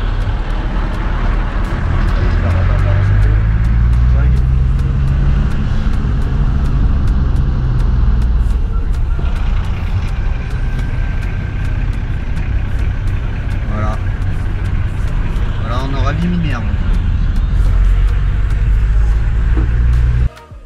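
A Nissan Patrol Y60 4x4 drives along a track with a steady, loud engine drone and road rumble throughout, with faint speech mixed in.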